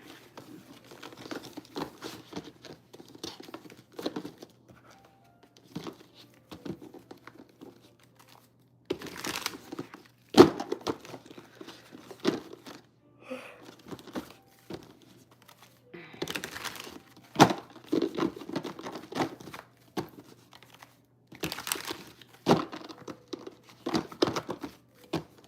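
Tarot cards being shuffled make soft, quiet riffling and flicking sounds in irregular bursts, separated by pauses with occasional sharper taps.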